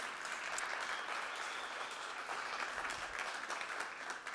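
Conference audience applauding at a tech startup event's opening night, a dense steady wash of many hands clapping at moderate loudness for several seconds with no talk over it.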